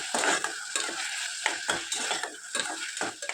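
A spoon stirs ginger garlic paste into moong dal khichdi in a hot pan, making rhythmic scraping strokes over a light sizzle, close and clear.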